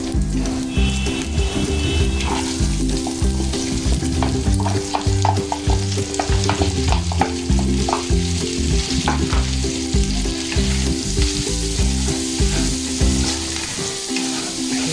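Onion and garlic frying in a pan for Ilokano-style pancit, a steady loud sizzle with stirring clatter, no talking.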